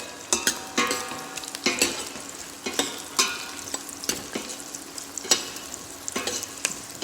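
Diced carrot sautés and sizzles in a pan for brown sauce, with a utensil stirring constantly, giving sharp scraping clicks at an irregular rhythm over a steady close frying hiss.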